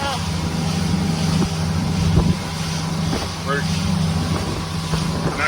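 Motorboat with a 140 horsepower engine cruising on Lake Eustis, a steady low drone under wind rush, with voices talking faintly over it.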